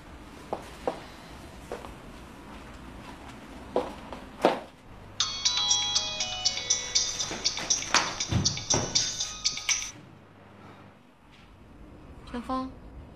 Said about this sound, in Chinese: 我就给他打个电话，让他来陪你